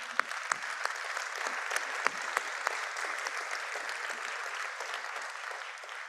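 An audience at an evening benefit event applauds steadily for several seconds. The clapping is dense and crowd-wide, with a few sharp individual claps standing out near the front.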